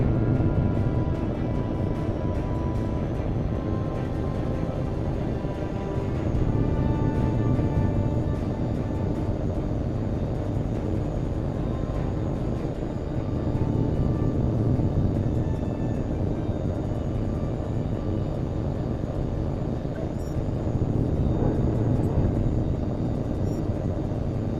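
Jet fighter taking off in the video game Tom Clancy's HAWX 2, a loud, steady low engine roar that holds for the whole stretch with slight surges, no voices over it.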